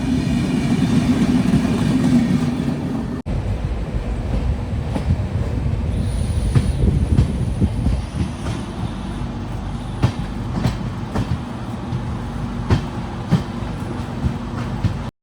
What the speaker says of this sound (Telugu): ట్రైన్ వచ్చేసి దువాడకు వచ్చింది బయలుదేరిపోయింది